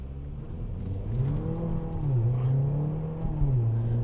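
A Mercedes CLA45 AMG pulling away from hill hold, its engine note rising and dipping through a gear change as it accelerates, heard from inside the car, with no talking.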